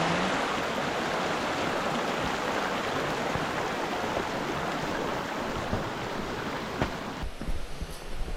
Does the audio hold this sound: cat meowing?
no